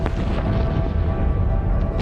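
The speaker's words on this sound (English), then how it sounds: "A series of booms could be heard hundreds of miles away." Volcanic booms from the Krakatoa eruption, a dense, continuous low rumble with heavy bass and repeated deep thuds, loud and sustained throughout with no voices.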